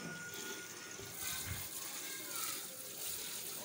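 Clothes being washed by hand in open water on a hot summer day, continuous splashing and sloshing with gushes of water, while someone talks over it.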